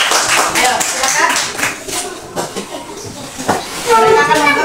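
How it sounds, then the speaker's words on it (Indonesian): A class of students claps for a small group about to present, a scattered, uneven patter of hands close by with voices talking over it. "Kita kasih tepuk tangan untuk mereka."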